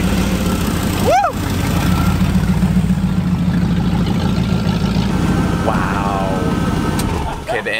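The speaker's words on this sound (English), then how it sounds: "the engine's loud just like the McLaren" A restored vintage car engine idles with a steady low rumble throughout, and a couple of brief whooping voices rise over it.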